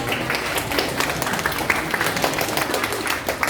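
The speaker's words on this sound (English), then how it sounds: "Everyone, please give a big round of applause to welcome." Audience applause welcoming guest speakers at a talk show, a steady dense wash of clapping hands filling the room at even loudness throughout with no talk over it.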